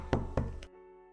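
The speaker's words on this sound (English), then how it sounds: "Another knock, louder." Knocking on an entrance door: three firm, fairly close raps in quick succession, loud and hollow, then the sound cuts off into quiet room tone.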